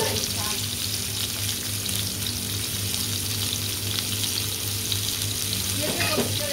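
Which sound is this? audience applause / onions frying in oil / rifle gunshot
onions frying in oil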